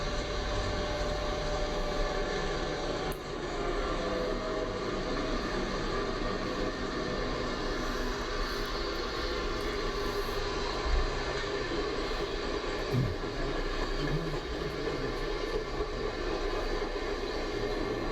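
Train pulling westbound out of Hinton, West Virginia in the 1980s, a steady broad rumble and roar that holds for the whole stretch, with faint metallic squeals and clanks rising out of the continuous noise.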